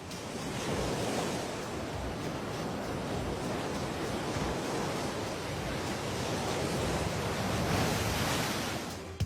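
Big ocean waves break continuously, a loud, dense roar of surf and rushing water with wind buffeting, sustained without pause.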